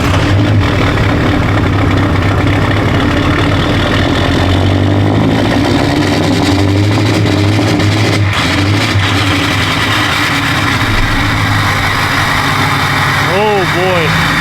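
A Duramax diesel truck engine cranks and catches on a cold day, rumbling loudly and unevenly close by as it struggles to settle, with voices talking over the noise.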